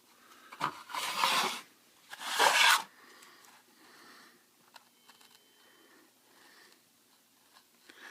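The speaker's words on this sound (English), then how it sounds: "I'm going to switch knives and cut that the other direction now." A knife scoring the f-hole outline into wood, heard as two close scraping cuts followed by quieter scratchy scraping.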